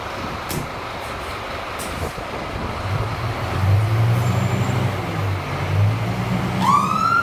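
A UK fire engine's siren wails in from a distance over steady road traffic, its rising tone clear near the end of the stretch.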